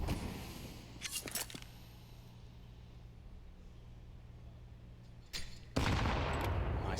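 Rifle fire in a Counter-Strike match on Mirage: a couple of sharp bursts of shots early, a quiet stretch, then a louder sustained volley of gunfire near the end, with faint background hum throughout.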